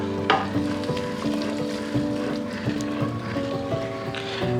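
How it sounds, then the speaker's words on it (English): Thick rice batter stirred in a pot during a homestay cooking session in India: a steady scraping, sloshing stir over a low hum, with a few brief louder knocks. "मैं इसको हिलाता हूँ, आपको मदद करता हूँ."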